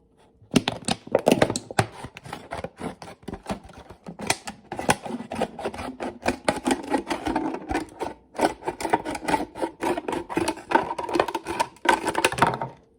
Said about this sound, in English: You're going to cut the bottom off your bottle.